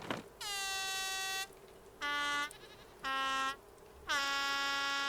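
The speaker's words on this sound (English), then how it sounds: "Back at the raft, I tested out the air horn." Four loud, bright air horn blasts from the video game Raft, two long and two shorter, sound in sequence with short gaps of quiet between them.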